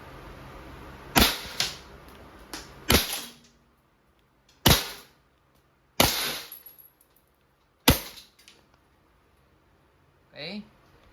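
Umarex airsoft Glock 17 Gen 3 CO2 gas blowback pistol fires a handful of sharp, loud cracks at irregular intervals of one to two seconds, with quiet gaps between and a faint clatter near the end.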